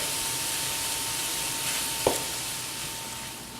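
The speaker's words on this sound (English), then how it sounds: "we're going to take this down to low heat. We'll mix it up and we're going to let this simmer for about 4 to 5 minutes" Eggplant ratatouille with garden vegetables simmering on low heat, giving a soft, even sizzle with one brief clink of a utensil partway through.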